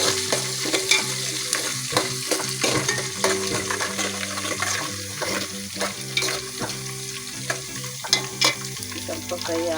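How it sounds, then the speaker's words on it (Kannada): Green chillies and curry leaves fry in hot oil and are stirred, for a puffed rice dish. The sizzle is loud and continuous, close by, with repeated scraping stir strokes. "ಹಸಿಮೆಣಸು ಕರಿಬೇವು ಸ್ವಲ್ಪ ಎಣ್ಣೆಗೆ ಫ್ರೈ ಆಗಿ,"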